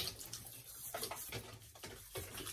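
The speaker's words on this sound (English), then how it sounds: "All right, let's wet the face." Water splashes and sloshes from a sink as a face is wetted before shaving, a steady close-up wash of running and splashing water with a few louder surges.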